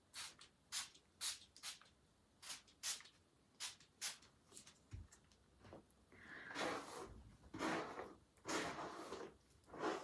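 A series of short aerosol bursts of heat protection hair spray, about a dozen quick hisses in a row, followed by longer, denser spraying near the end.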